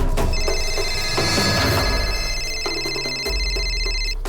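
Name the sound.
telephone ringing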